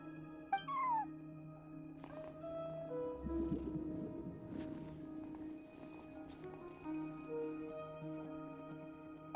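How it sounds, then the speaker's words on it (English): A cat meowing at a front desk in Genshin Impact, a short rising-and-falling meow near the start, then softer cat sounds over steady, gentle in-game music. "cat watching over the front desk"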